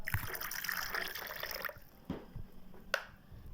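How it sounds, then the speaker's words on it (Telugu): Water trickles and splashes steadily into a container of buttermilk for a moment, then eases off, leaving a few isolated drips and knocks. "వాటర్ని పొద్దాం"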